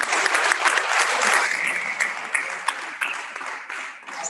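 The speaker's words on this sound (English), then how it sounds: "You guys have a round of applause." A room of attendees at a chapter's tenth anniversary event claps in a short burst of steady applause, loud at first and gradually thinning out with a few distinct claps at the end.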